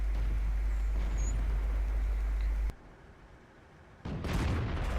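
A Su-85I tank destroyer's gun fires in World of Tanks: a steady engine rumble cuts away, a brief hush follows, then a single loud, close booming blast erupts.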